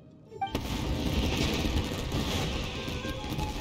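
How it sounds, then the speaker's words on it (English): Fireworks explode in the Genshin Impact video game, a sudden loud burst that swells into a sustained rumbling, crackling roar lasting several seconds. "Yoimiya, this is turning into a bit of a fireworks display."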